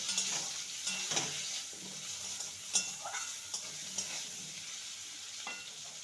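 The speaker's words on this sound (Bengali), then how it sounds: "আলুটাকে লাল করে ভেজে নেব" Potatoes dusted with a little turmeric fry in oil in a pan, giving a steady close sizzle with occasional scraping stir taps and no talking.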